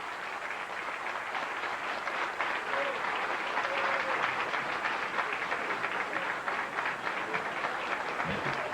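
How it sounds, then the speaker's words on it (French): Audience clapping for a team of carnival volunteers at a 2003 carnival presentation, a steady dense wash of applause lasting throughout, with voices faintly mixed in. "ils méritent une bonne main d'applaudissements"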